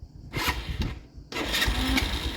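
A car engine cranks with a couple of rough bursts, then catches and settles into a loud, steady running drone close by, with no voices.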